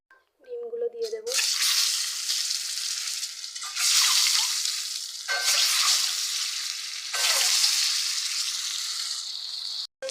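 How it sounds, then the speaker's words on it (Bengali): Eggs hit hot mustard oil seasoned with salt and turmeric and fry with loud, hissing sizzles that surge in repeated waves, each dropping back before swelling again. A short voice is heard at the start. "দেখো সর্ষের তেল গরম হয়ে গেছে, এবার এর মধ্যে একটুখানি লবণ আর হলুদ দিয়ে ডিমগুলো দিয়ে দেব।"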